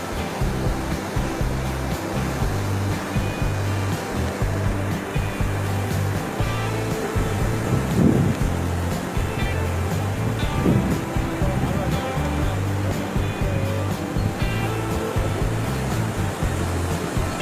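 The swollen Kumotiya river in Dhemaji rushes in flood, making a continuous, dense roar of churning water with wind buffeting the microphone. Faint voices may sit beneath the steady rush.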